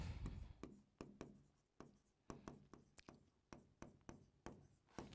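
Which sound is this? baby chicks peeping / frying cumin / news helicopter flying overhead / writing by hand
writing by hand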